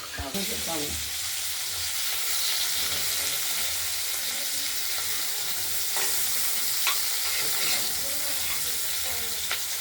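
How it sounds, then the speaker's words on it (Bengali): Spices frying in a covered pan for a katla fish curry give a steady, close sizzle with soft crackles throughout, plus a few light clinks near the start. "ঢাকা অবস্থা একটু ভাজা হোক"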